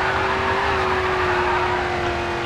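A tuned race car in Grid 2 accelerates and drifts through a corner, its engine holding a steady, loud droning note with tire noise underneath, continuous and close throughout.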